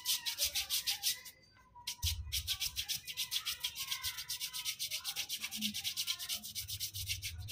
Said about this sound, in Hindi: पूरे पैर की अच्छे से घिसाई करनी है